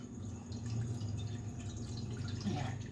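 Water poured into a bowl for chocolate bread dough made with powdered milk, a soft steady trickle and dripping close by with faint kitchen background.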